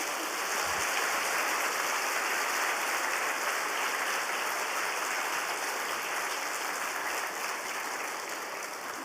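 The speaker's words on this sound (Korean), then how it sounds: "나오실 때 우리 뜨거운 박수로 환영하겠습니다" Warm audience applause in a church revival service welcoming the preacher to the front, a dense, steady wash of many clapping hands that fills the room without a break and fades slightly at the end.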